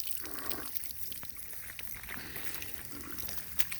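Spring water trickles and splashes softly, scooped by hand, with faint irregular drips and pours heard close by in a quiet outdoor setting.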